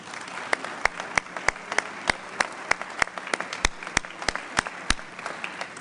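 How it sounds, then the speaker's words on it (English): Scattered applause for new members at a Rotary Club of Denver luncheon program, individual sharp claps standing out from a thinner crowd patter, steady and moderately loud throughout. "Let's give all of these members a round of applause"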